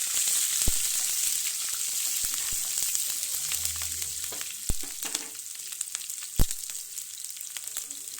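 Dal, green chilies and curry leaves frying in oil in a pan for pumpkin palya, a bright steady sizzle with occasional sharp spatula taps and scrapes, close and without talk.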